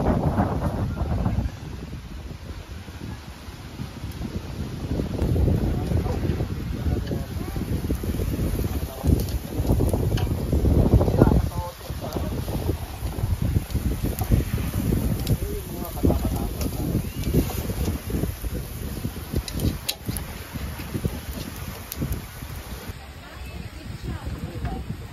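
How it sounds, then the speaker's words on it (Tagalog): Strong wind at a beach resort in Subic buffets the microphone with steady low roaring gusts throughout, while a person talks intermittently over it. "Lakas ang hangin."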